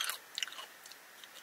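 Close, crisp crunching of Tostitos tortilla chips dipped in cheesy salsa con queso, a few quick bites clustered at the start and then lighter chewing, with no talking.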